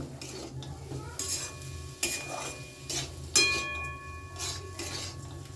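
A spoon stirs and scrapes cauliflower samosa filling in a pan, with repeated strokes and light metallic clinks, close and steady, with no voices.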